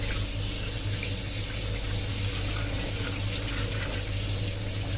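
Goat tripe (ojri) is washed by hand in a basin of water, giving a close, steady splashing and trickling of water, like a tap filling a sink, over a low hum, with no speech.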